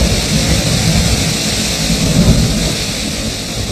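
A Caribbean hurricane storm with heavy rain and rolling thunder, a dense, steady roar of downpour with low rumbles, loud and continuous.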